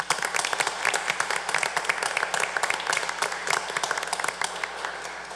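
Applause from an audience at a Floyd County Board of Commissioners meeting, a steady patter of many hands clapping at moderate distance, continuous throughout with a few faint voices underneath.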